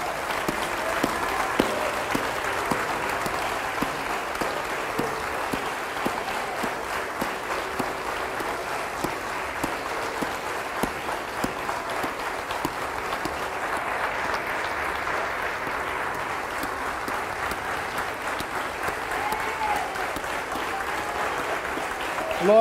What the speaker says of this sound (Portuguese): dedicar 1 minuto de aplausos ao aniversariante do dia